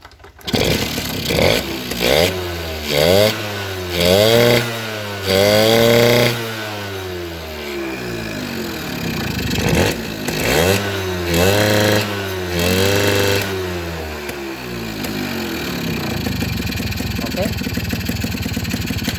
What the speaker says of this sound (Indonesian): Kalau dipasang, motor tidak bisa meraung tinggi, berbet.